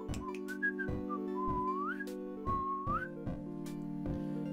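A person whistles a short, wavering melody of sliding notes close by, over a steady low hum and scattered clicks, with no talking.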